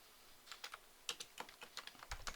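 Quick, uneven keystrokes on a computer keyboard as a change-directory command is typed, a short burst of close, crisp clicks with slight pauses and no talking.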